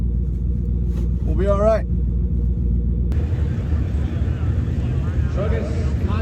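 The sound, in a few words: car doing a burnout at a speedway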